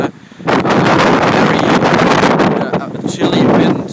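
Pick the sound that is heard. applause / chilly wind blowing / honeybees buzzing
chilly wind blowing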